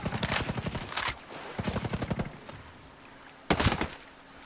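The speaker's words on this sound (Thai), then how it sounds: "ยิงระยะไกลครับ" Long-range gunfire in the video game Ghost Recon Breakpoint comes as rapid automatic bursts. Two strings of shots are followed by a pause and then one short, sharp final burst, all fairly close and loud with no voices.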